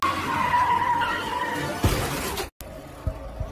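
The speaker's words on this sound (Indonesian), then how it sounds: "tiba-tiba sebuah mobil muncul di depan mereka" A car in a Malaysian film appears suddenly and skids, with a loud tire screech and rushing noise followed by an abrupt cut and a few dull knocks.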